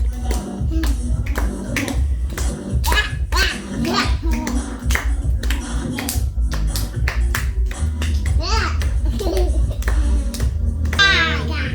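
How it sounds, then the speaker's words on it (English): Many hands clap in a quick, steady rhythm throughout at a church service, loud and close, with voices calling out over the clapping. "Clap your hands."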